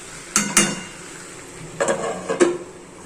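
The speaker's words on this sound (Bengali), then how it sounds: "এটাকে এবার নেড়ে চেড়ে আরো 2 মিনিট সিদ্ধ হতে দিয়ে দেব।" A spoon scrapes and clanks in a pan of ivy gourd curry with chopped tomato and green chilies, giving two quick knocks, a pause, then two more under a soft simmering background.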